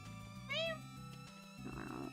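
Cats meow in the retro video game Ys II: a single rising electronic meow, then a rougher cry, over a looping chiptune background.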